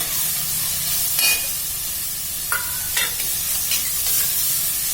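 Tomatoes and peas go into a hot pan while cooking jackfruit biryani, giving a steady sizzle and hiss broken by a few sharp clinks and scrapes of a utensil against the pan.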